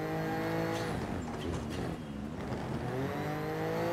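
A rally car in EA Sports WRC holds a steady, loud engine drone with layered exhaust harmonics throughout, the pitch dipping briefly mid-way before climbing back under continuous throttle.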